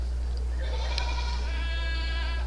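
Goats bleat at a dairy goat show: a loud, wavering cry rises over steady low hum, with a faint shorter call just before it.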